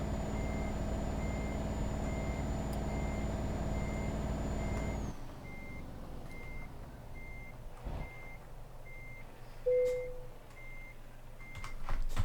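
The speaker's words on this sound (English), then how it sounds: "So I'm just reversing to my trailer now." In the Euro Truck Simulator 2 game, a heavy truck reverses toward its trailer with a loud engine drone and a steady beep-beep alarm. The engine cuts out partway through while the regular reversing beeps continue over quieter cab sounds.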